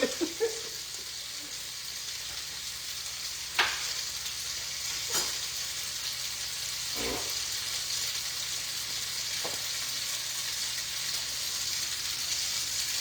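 Onions frying in a pan, a steady bright sizzle that fills the whole stretch, broken by a few sharp utensil scrapes and clicks, close up and without voices.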